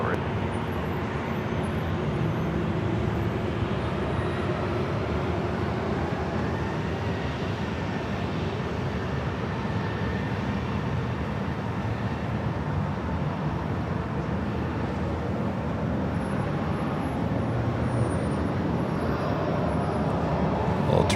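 At LAX, an airliner roars steadily down the runway for takeoff, a loud broadband engine rumble heard from a distance that holds continuously for about twenty seconds.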